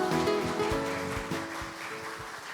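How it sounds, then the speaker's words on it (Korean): Welcoming applause rises from the audience at an energy economics policy seminar opening, a dense patter of clapping mixed with background music, fading slightly over a few seconds. "여러분 환영의 박수 부탁드립니다"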